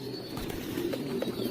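Domestic pigeons in a loft coo in low, rolling murmurs, a few short throaty calls close by, with faint chirps and light fluttering underneath.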